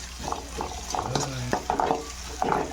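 Tomato rice ingredients frying in a pan until golden, with a low sizzle and clicking spoon stirs heard beneath a person talking.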